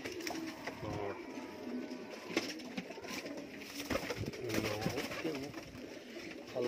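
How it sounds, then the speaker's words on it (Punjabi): Several pigeons coo softly and repeatedly in a loft, close by, with rustling and faint background noise and no clear speech. "ਟੂਰਨਾਮੈਂਟ 'ਚ ਉੱਡੇ ਬਾਈ ਦੇ ਕਬੂਤਰ।"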